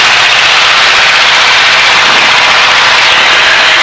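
A Luscombe light airplane engine being run up, a loud, steady, droning roar with broadband propeller and wind noise filling the whole stretch without pause.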